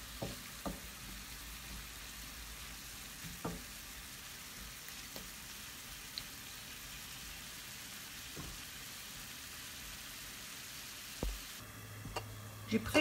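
Tomatoes fry in a pan for a mushroom omelette with a quiet, steady sizzle, broken by occasional soft clicks and clatters of stirring.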